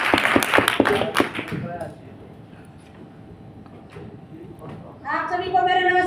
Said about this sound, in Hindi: चलो हमारी शिष्ट लोगों के लिए एक बार जोरदार ताली आएगी।